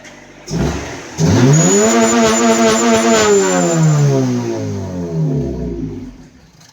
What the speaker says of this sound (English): Gotta rev it up